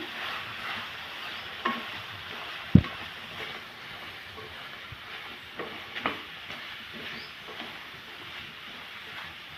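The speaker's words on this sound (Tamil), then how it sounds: "நல்லா சேர்த்து வதக்கிடுவோம்" Bottle gourd is stirred with ground chili and coriander powder in a pan, giving a faint, steady sizzle broken by a few soft spoon knocks.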